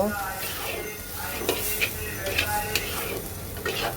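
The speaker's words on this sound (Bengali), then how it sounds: "এইবার সব কিছু সুন্দর করে কয়েক মিনিট একটু হালকা ভেজে নেব" Ground coriander and cumin fry lightly in a pan for a prawn and banana flower dish, giving a soft continuous sizzle with several clinking stirs of a spoon against the pan.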